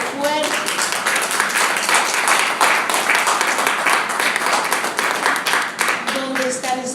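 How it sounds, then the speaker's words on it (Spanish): A church congregation applauding, dense sustained clapping from many hands filling the room, with voices briefly calling out at the start and end. "Démosle un aplauso, Señor,"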